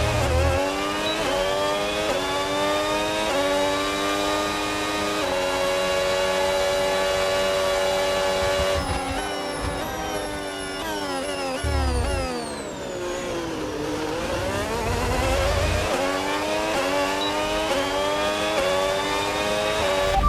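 F1 race car from the video game F1 26 at the Austrian Grand Prix, Red Bull Ring, engine climbing through gears on hybrid boost down a long straight, loud and close, with rising pitch sweeps and brief shifts, no talk.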